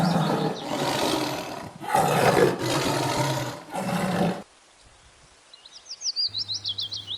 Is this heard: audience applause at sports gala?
no